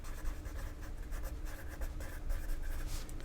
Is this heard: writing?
yes